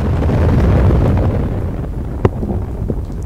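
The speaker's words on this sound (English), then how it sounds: "Yes, the spotlights and that white flash is an explosion." Explosion in the ending of the video game Portal Unity, a broad rumbling roar that slowly fades, followed by a sharp crack and a few smaller pops as it dies down.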